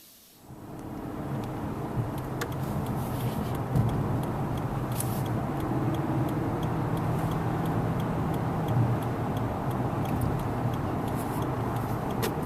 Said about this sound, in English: Just a sample of how smooth it is getting on the expressway in this Lexus